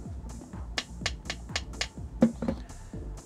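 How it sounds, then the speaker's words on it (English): An optical acrylic dome port for an underwater camera housing is tapped repeatedly, giving about eight sharp, evenly spaced knocks with short ringing decay, close up and alone. "So here is an optical acrylic dome port and it sounds like this."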